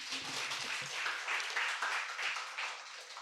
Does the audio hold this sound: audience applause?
yes